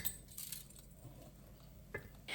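A spoon stirs apple cupcake batter with ground cashews in a bowl, giving faint, scattered clinks and scrapes against the bowl over a quiet background.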